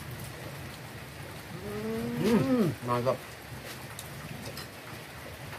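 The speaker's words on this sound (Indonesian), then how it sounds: "Hujan-hujan." Steady rain hisses down outdoors in a rural setting during a thunderstorm, a soft continuous wash in the background while a voice briefly exclaims and a low bellowing call rises over it midway.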